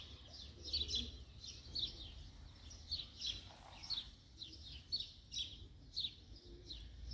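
Several small birds chirp in Spain, repeated bright tweets sounding every second or so over a low steady outdoor rumble, moderately close and without voices.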